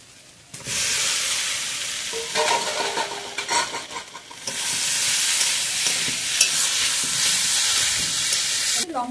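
Potatoes tipped into a hot pan with ginger paste, chopped tomato and spices for a rohu fish curry set off a loud, close sizzle and steamy hiss that flares, dips mid-way, then roars steadily again amid scraping.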